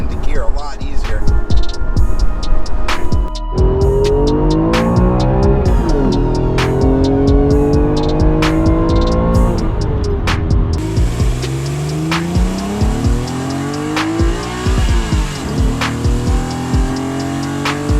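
An Acura NSX NA1 with an upgraded Zanardi shifter drives hard on a test drive, its engine revving and climbing through repeated gear-change sweeps, loud and continuous, with talk over parts of the run.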